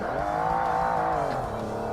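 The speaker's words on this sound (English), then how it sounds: "And revving my engine too high." A tuned race car in Forza Motorsport (Xbox, 2005) screams at high, over-revved engine speed, a loud sustained buzzing whine that holds steady and then dips slightly as the pitch falls near the end.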